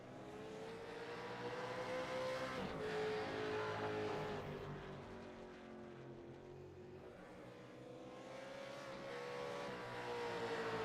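V8 race cars roaring down the start-finish straight at the Algarve circuit, with a steady loud engine drone and shifting whining pitch as the cars accelerate and pass, no talking.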